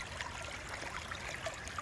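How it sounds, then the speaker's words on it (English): Fast water rushes steadily over a creek sluice set at a shallow angle, a continuous close hissing and gurgling flow without breaks. "That's plenty of water flow"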